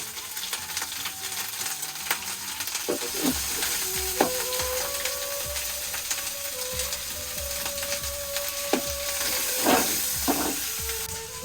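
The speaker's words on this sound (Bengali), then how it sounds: "এখন দিয়ে দেবো রসুন বাটা।" Garlic paste frying in a pan, a steady close sizzle with scattered clicks and scrapes of a utensil, plus a faint tonal hum running through the middle.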